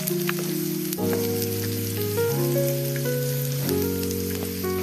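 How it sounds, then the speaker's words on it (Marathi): Finely chopped cabbage and onion sauté in a pan with a steady, close sizzle and crackle, while tonal music plays underneath. "त्यात आपण टाकणार आहेत हा बारीक चिरलेला पत्ता कोबी तो पण छान असा परतून घ्यायचा आहे"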